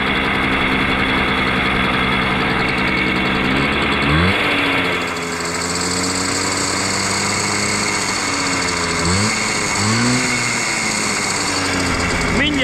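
A Simson moped engine idles steadily and close, with a buzzing two-stroke drone and harmonic pitch shifts and brief revs around the middle, while a voice talks over it at times.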